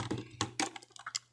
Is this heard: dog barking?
no